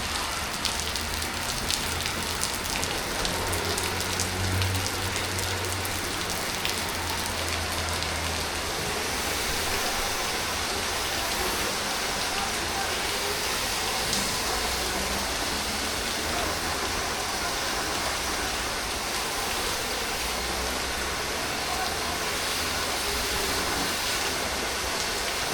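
A sudden heavy downpour drums steadily on surfaces all around, a dense, continuous hiss that stays loud throughout with no talking.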